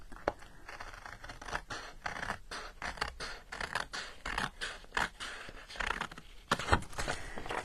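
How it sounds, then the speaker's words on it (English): Scissors snip through scored card stock at a cluttered craft desk, a brisk run of sharp crisp cuts with scraping paper rustle in between, fairly close and steady, no talking. "My desk is very cluttered, so I'm going to use my scissors."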